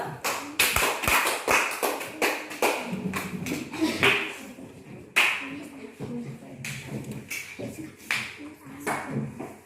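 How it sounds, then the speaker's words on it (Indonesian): A classroom of students applauds three classmates, with dense, uneven clapping from many hands that swells and fades in bursts over several seconds, and voices murmuring underneath. "Tepuk tangan untuk mereka bertiga dulu."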